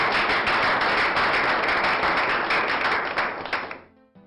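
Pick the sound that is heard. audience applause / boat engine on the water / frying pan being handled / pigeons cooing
audience applause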